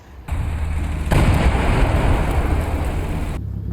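Dragon anti-tank missiles launched at BRDM armored vehicles in the Combat Mission Cold War game, a loud sustained roaring blast that swells after a second and holds steady before cutting off, with no voices over it.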